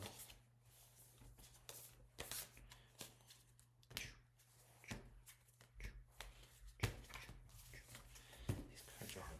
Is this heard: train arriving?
no